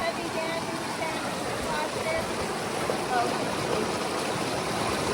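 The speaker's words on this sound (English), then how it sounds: "got the pump in the water, and she's just washing rocks" Water running and splashing from a battery-powered pump while rocks are washed during gold prospecting, a steady close rushing wash with a person talking over it.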